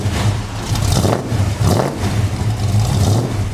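A 1965 Ford Mustang on a test drive after ball joint and lower control arm work, its engine droning steadily with a low pulsing hum and light rises in revs, close and loud, no talking.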